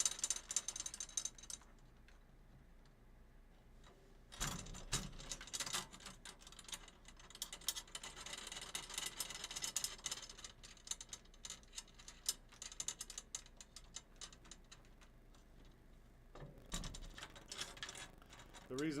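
Drum tension rods are turned finger tight around the hoop, producing faint small clicks and ratcheting metal ticks, with a few louder knocks scattered through a quiet room.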